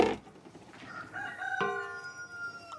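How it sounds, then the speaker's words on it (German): Chickens at a home yard, with a rooster crowing in a drawn-out call at moderate distance over soft background clucking, after a brief louder sound at the start. "Und habt ihr die Hühner gehört?"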